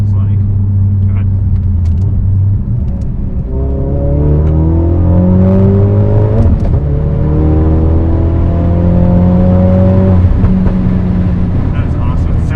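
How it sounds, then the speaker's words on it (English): Ford Focus RS with about $20,000 in modifications pulling hard in second gear, its engine note climbing steadily in pitch, loud and close from inside the cabin, with a brief gear change midway and a second rising pull. "If we can get a little second gear pull or just go around this corner so we can see what the RS is like."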